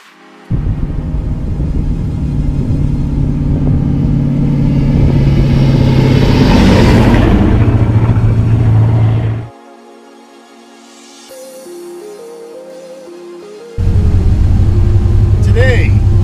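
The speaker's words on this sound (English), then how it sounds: "Today, I'm driving a 1994 Chevrolet Impala Super Sport." A 1994 Chevrolet Impala Super Sport, a rear-wheel-drive car with a big body, gives a steady engine drone while driving. A voice talks over it, the engine sound cuts out for a few seconds, then the drone returns.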